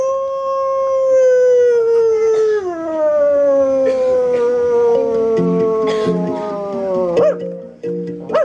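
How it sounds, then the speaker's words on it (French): A dog howls in one long, loud, wavering note that slowly drops in pitch, ending with a few short yelping breaks. "Et Oscar, chien savant."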